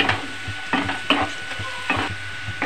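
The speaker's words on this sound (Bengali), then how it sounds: "এবার দিয়ে দিলাম আমি পেঁয়াজের ওপর, দিয়ে আবার কিছুক্ষণ ধরে একটুখানি ভাজবো" Cloves, cardamom and cinnamon frying with onions in oil for a Bengali egg and potato curry, a steady close sizzle broken by several sharp scraping stirs of a spatula in the pan, with no voices.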